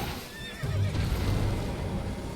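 A horse in the video game Elden Ring lets out a short whinny over a low, steady rumble of game ambience.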